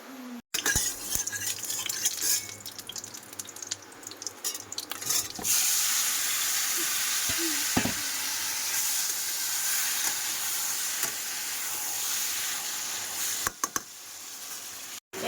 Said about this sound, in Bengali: এই যে মাংস কিন্তু কষাই হয়ে গেছে প্রায়